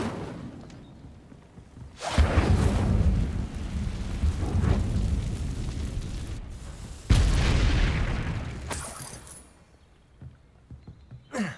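A booming Incendio fire spell blast in Hogwarts Legacy, two heavy roaring bursts with rumbling tails that swell and slowly fade, fairly loud against quieter background.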